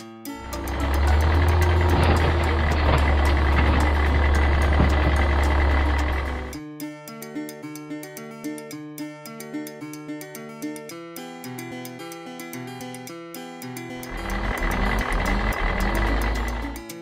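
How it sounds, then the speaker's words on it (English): Garbage truck engine rumbling loudly while a steady run of reversing beeps sounds, then a stretch of bright musical tones before the heavy engine and beeping return, no voices. "the garbage truck."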